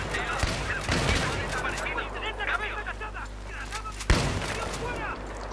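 An M870 shotgun fires during Battlefield 3 play, with loud booming blasts under a continuous game din and someone talking excitedly over the action.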